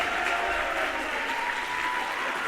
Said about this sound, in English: Crowd on their feet here in Chicago